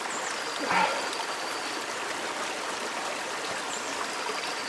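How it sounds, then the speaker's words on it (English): Stream flowing beside a spot where a paintbrush is being rinsed during outdoor painting by the Creuse in spring, a steady soft rushing wash of water with a faint splash near the start. "I need to wash it out in the stream"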